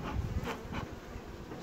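Honeybees buzz steadily around hive frames during work on a queenless colony being merged, a dense continuous hum close by with no voices.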